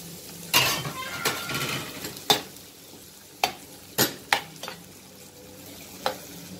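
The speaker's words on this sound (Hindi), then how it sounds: "अभी मैं इनके अंदर जो है वो टमाटर डाल देती हूँ।" Tomatoes going into a frying pan with oil for an eggplant mutton dish, a soft steady sizzle under repeated scraping and clanking of a spoon against the pan, several distinct knocks spaced irregularly, with no talking.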